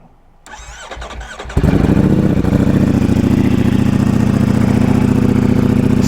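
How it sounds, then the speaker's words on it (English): A 2020 Ducati Streetfighter V4 motorcycle cold-starts with a starter whir, then bursts into a loud, steady, close-up V4 idle that keeps rumbling alone. "let's give you a cold start of our 2020 Ducati Streetfighter V4"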